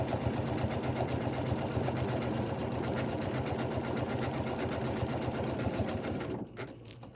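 A Janome M17 sewing machine stitches decorative patterns in a fast, steady mechanical whirr that runs continuously at close range and stops near the end, with no talking.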